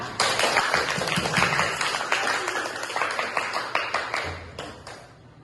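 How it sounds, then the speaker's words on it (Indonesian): Students in a classroom clap for a classmate after her correct answer, a short burst of scattered, uneven hand claps at moderate loudness that trails off near the end. "Beri tepuk tangan untuk Neha"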